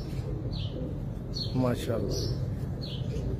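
Cream-colored breeder pigeons in a loft give soft coos and short chirping calls that repeat at intervals beneath a man's close, steady speech.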